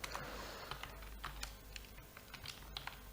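Computer keyboard typing programming commands, a steady run of soft, quick key clicks close up against a faint low hum, with no voices.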